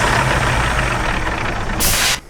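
Air brake being set on a truck in American Truck Simulator: a steady idling diesel rumble, then a loud sharp hiss of released air near the end before it cuts off.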